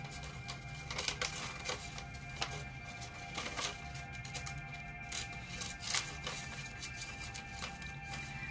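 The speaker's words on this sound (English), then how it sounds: "I'm fighting with scissors right now." Scissors cut paper indoors in a series of irregular crisp snips and rustles over a faint steady background hum, with no voices heard.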